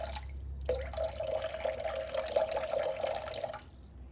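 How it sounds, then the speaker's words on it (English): Water pours steadily for about three seconds into a bowl sitting on a kitchen scale for sourdough bread dough, a close, continuous splashing stream that starts abruptly and tapers off, with no talk. "I add about 315 to 350 grams of water"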